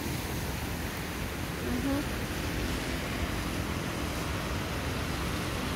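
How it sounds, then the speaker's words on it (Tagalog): Steady rushing of floodwater waves flowing through a street during a storm in Abu Dhabi, continuous and fairly loud, with a broad washing hiss and faint wind-like noise throughout. "lumalagpas pa dito yung water oh. May wave na siya."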